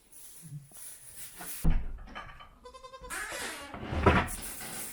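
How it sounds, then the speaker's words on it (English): Goats bleat a few times, fairly close, with scattered thumps and rustling between calls. "The goats say hello, by the way."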